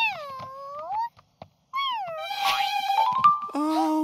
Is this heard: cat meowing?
yes